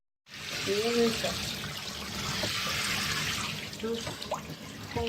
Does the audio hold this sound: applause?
no